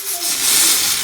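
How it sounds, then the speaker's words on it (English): Pressure cooker whistle venting steam on a stove while peanuts boil in salted water, a steady loud hiss that swells and holds for about a second with no talk. "This is the 4th whistle."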